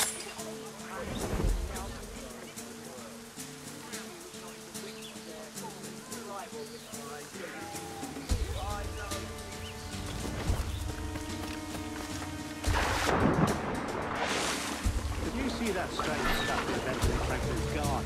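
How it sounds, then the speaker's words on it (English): Rain falls steadily through an Assassin's Creed Rogue game scene while low thunder rumbles roll in at intervals, one swelling loudly near the end, with background sounds and voices underneath. "Speaking of lightning, I reckon there's a storm coming."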